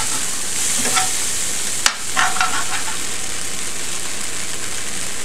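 Taco casserole mixture cooks in a pan with a steady, close sizzle and frying hiss, broken by a brief stir or scrape near the middle; no one talks.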